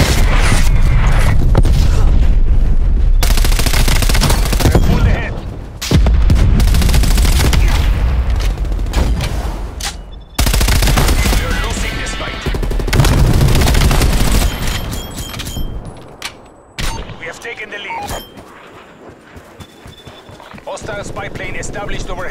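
Artillery strike in Call of Duty: Black Ops Cold War, with loud booming blasts and dense gunfire in heavy bursts, broken by short lulls, and game voices talking over the barrage.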